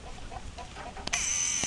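Fighting rooster clucking nearby, a couple of short soft clucks followed by a sharper call, heard against quiet farmyard background.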